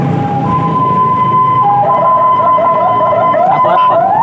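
A loud ambulance siren wails steadily and close by at night, its rising and falling tone sustained over a constant roar of traffic.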